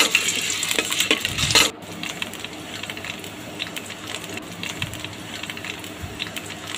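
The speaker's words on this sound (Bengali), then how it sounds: "এখন ওই তেলে আমি আলুগুলা হালকা করে ভেজে নিব" Potatoes fry in mustard oil in a pot: a sharp metallic clatter and burst of sizzle at the start, then a quieter steady hiss with occasional light scrapes and pops.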